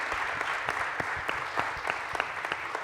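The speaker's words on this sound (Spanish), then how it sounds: "pido también un fuerte aplauso para ellos en recuerdo." An audience claps in remembrance at a public event in Colombia, a steady crowd applause with scattered sharp individual claps throughout, moderately distant and continuous.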